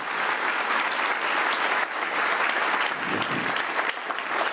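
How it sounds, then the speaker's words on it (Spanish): A church congregation applauds during a sermon, a thick, continuous wash of clapping from many hands filling the whole space without pause. "dale un aplauso a Dios con todo tu santo corazón"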